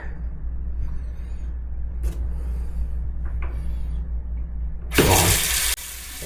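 A hotel tap, tested for how long hot water takes to reach the fifth floor, bursts on with a short loud rush of running water near the end, after several seconds of low room hum.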